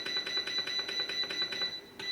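Rapid electronic beeps from a Tesco BM1333 breadmaker's timer button, a steady string of about a dozen high, evenly spaced pips as the button is pressed repeatedly, with a brief pause before one more.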